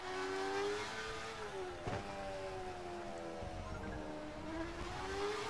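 A Formula 1 car in F1 2012 driven slowly, its engine holding a steady tonal whine that rises and falls gently in pitch throughout, with no talk.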